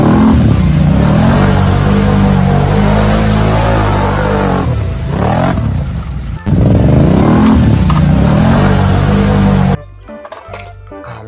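An orange ATV's engine revs in rising and falling surges, a buzzing, harmonic drone that swells and dips, briefly cuts out, returns, then drops away abruptly to a quieter rattle.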